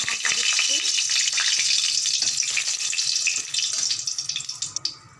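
Onion and garlic frying in a pan for masoor dal, a loud continuous hiss of hot oil with scraping stirs that grows choppier toward the end.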